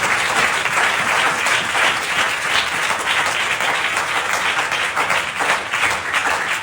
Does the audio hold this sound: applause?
yes